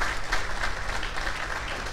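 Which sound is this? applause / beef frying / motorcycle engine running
applause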